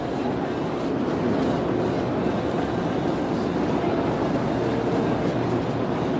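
A high-speed train runs near Mecca between Muzdalifah, Arafat and Mina, heard as a steady, close, continuous rumble of rolling cars and wheels on rails with no break.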